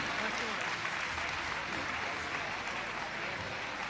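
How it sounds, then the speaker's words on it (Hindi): Audience applause at a camp closing ceremony in Ashok Nagar, honoring a guest with a teacher's shield; steady, dense clapping from a crowd fills the room throughout, with no gaps. "आपकी कम तालियों के साथ नहीं, ज्यादा तालियों के साथ होना चाहिए"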